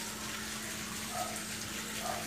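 Cold water from a kitchen tap runs steadily over freshly cooked pasta draining in a sink, a continuous close hiss and splash with no one talking.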